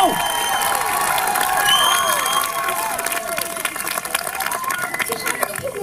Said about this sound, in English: I want you to give a big round of applause. I want you to make tons of noise for the cast